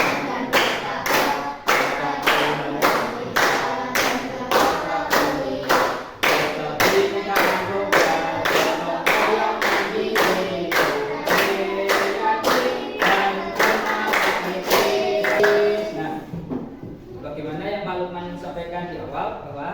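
Students in a classroom clap in steady unison to the beat of a song, crisp rhythmic claps repeating evenly for about fifteen seconds under their singing voices before stopping, after which the singing trails on briefly.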